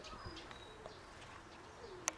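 Soft, low cooing from a pigeon in an aviary among faint chirps and light background noise, with a brief sharp click near the end.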